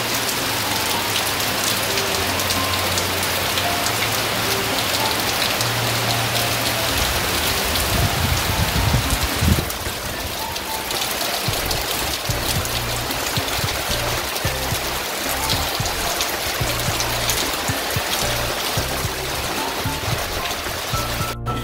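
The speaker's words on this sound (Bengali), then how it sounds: "কত বৃষ্টি হচ্ছে দেখুন।" Heavy rain falls in a loud, continuous roar with pattering drops and runoff splashing on surfaces nearby, steady throughout.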